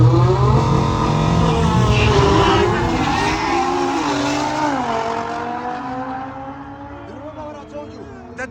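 Cars racing at a South African car show, engines roaring loud and close with pitch climbing and dropping through gear changes, a dense mechanical drone that fades slightly toward the end, with voices mixed in.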